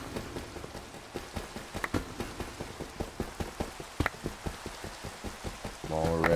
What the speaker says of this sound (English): waiting for it to stop raining.